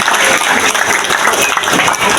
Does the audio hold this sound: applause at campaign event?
yes